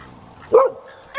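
A single short dog bark, close and sharp, standing out against a quiet background.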